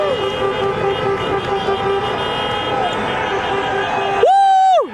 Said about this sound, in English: The cars are honking like if Mexico won the game right now.